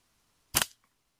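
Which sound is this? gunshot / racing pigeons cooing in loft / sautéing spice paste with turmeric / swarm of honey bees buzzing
gunshot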